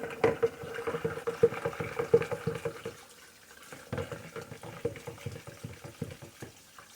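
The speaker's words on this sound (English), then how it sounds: "add this water on in, and you're just going to fill it up with water" Tap water running into a container in a kitchen sink while making Southern sweet tea, a steady close splashing fill with irregular sloshing pulses that softens partway through, no talk.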